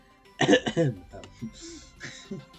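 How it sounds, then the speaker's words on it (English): A couple of harsh, close coughs at the start, followed by softer throat sounds and brief talking. "Add some coughing sound effects."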